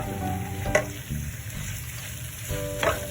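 Marinated squid fries in masala in a pan, a steady sizzle with a couple of sharper scraping stirs. The sound is close and moderately quiet, with no talking.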